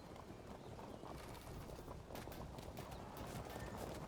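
Horse hooves clip-clopping steadily from a horse archer unit in the Field of Glory II video game, a continuous dense patter of many hoofbeats mixed with a broad noisy wash.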